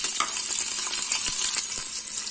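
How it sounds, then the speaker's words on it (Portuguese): Bacon frying in oil in a pressure cooker pot, a continuous bright crackling sizzle with scattered sharp pops throughout, close and alone without talk. "Eu gosto de fritar o bacon e a calabresa"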